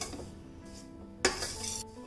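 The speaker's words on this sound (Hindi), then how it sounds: "गैस की फ्लेम को मीडियम कर लेंगे, इसको अच्छी तरह से चलाते हुए अच्छी तरह से इसको भून लेंगे।" A spoon stirs vermicelli roasting in ghee in a pan over a medium gas flame, with a steady low sizzle under close scraping and clinks against the metal and one sharper scrape partway through.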